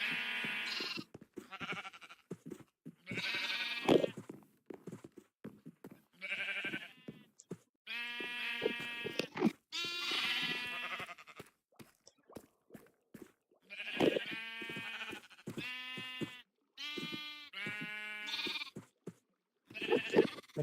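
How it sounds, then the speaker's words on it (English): Sheep in the Minecraft video game bleat repeatedly, a series of loud, close, wavering bleats that come in bursts with short gaps between them, with no talking over them. "We can't deal with a sheared magenta sheep right now."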